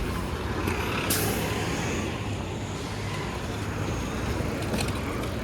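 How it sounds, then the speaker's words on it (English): A 94 Wellesley city bus rolls through busy downtown Toronto street traffic on Wellesley Street East, a steady loud rumble of engine and road noise with a brief hiss like an air brake. "There's 94 Wellesley bus."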